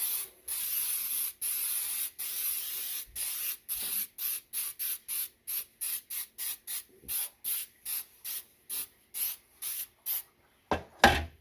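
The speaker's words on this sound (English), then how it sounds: "we're gonna spray the pan" Rapid bursts of Baker's Joy baking spray hiss close by into a cake pan, short puffs in a quick uneven rhythm with brief gaps, ending in a couple of louder bumps.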